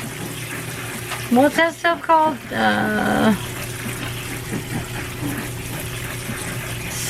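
Cold tap water runs steadily over cooked noodles in a home kitchen sink, making a continuous hiss and splash, while someone talks briefly over it near the start.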